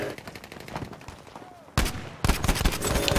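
Gunfire in the Battlefield V video game: dense rapid automatic bursts, loud and close, with a short lull before two heavy volleys.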